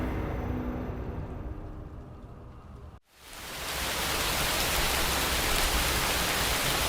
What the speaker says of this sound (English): The scene opened with a truck driver hurtling through the rain in the middle of the night.